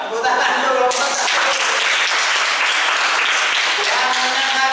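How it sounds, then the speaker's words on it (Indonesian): A class of students applauds a presenting group in a classroom, a loud, continuous burst of clapping filling the whole stretch with voices mixed in. "Ya, tepuk tangan dulu kelompok 1."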